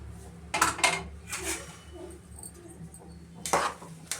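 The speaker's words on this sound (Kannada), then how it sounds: "ಕುಕ್ಕರ್ ಮುಚ್ಚಳ ತೆಗಿತಾ ಇದ್ದೀನಿ." A pressure cooker lid being lifted off after cooking rice bath, giving several loud metallic clanks and scrapes close by, with quieter rattles between.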